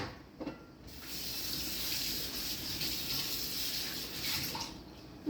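Water running from a kitchen sink tap to clean a pan after making scrambled eggs, a steady close gushing flow starting after a brief clatter and cutting off near the end.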